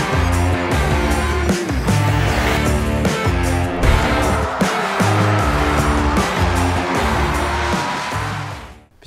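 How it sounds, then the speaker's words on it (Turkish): A 2021 BMW M5 Competition at a race track, its engine droning loud and steady close by with rhythmic rises and dips in pitch as it works through gears, fading out at the very end. "Cem Bölükbaşı'yla BMW M5 Competition'la birlikteyiz ve piste geldik"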